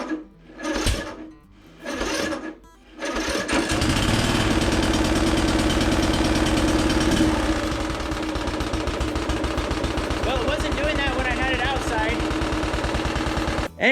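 A Toro 38-inch zero turn mower engine being cranked, with a few short bursts of starter effort at first, then a loud sustained mechanical chatter running steadily for about ten seconds, close by.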